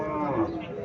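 At a cattle market where a Haryana-breed cow and calf are sold, a short low moo rises close by, briefly overlapping background voices and market chatter.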